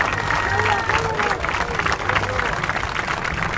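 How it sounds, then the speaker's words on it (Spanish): A crowd claps and applauds steadily, dense and close, with voices and cheering mixed in throughout. "Fuerte las palmas para ellos."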